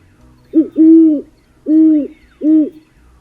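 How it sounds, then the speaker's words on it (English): Great horned owl hooting: four deep, resonant hoots in a short series, close and clear against a quiet background. "Let's take a second to listen to the great horned owl's call."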